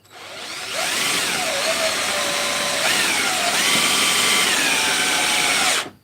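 A power drill whirs loudly and steadily for several seconds, its pitch dipping and shifting as the bit bites into wood, then cuts off abruptly.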